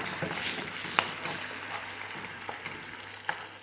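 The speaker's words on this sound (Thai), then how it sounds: "ผัดไปค่ะ อันนี้กระเทียมมันไหม้ค่ะ" Garlic, slightly burnt, stir-fries in a pan for a fermented fish (pla ra) stir-fry, a steady sizzling hiss with a few sharp utensil taps against the pan, close and moderately loud.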